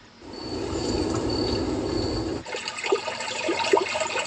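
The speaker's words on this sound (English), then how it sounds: "ocean wave sound." Ocean wave sounds played through the Leapmotor C10 electric car's nap mode: a steady rushing surge that cuts off abruptly, followed by softer, irregular washing and splashing swells, loud and close, with no talk.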